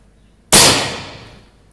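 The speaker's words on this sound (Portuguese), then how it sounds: "Segundo disparo." A single sharp gunshot from a 9mm firing a homemade lead slug cracks out loud and close after a quiet lead-in, then decays over about a second.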